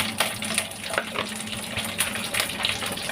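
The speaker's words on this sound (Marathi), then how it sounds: "त्याचे मसाले व्यवस्थित तेलामध्ये परतून घ्यायचे" Whole spices and cashew seeds sauté in hot oil for a Mangalore chicken curry, giving a loud, dense, close sizzle with rhythmic scraping and stirring throughout.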